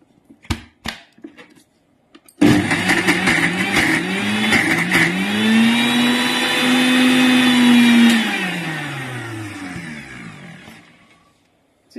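An electric mixer grinder whirs as it grinds red chilli, mango and ginger pickle: a short start, then a loud steady motor drone for about six seconds that slowly winds down, heard alone with no talk.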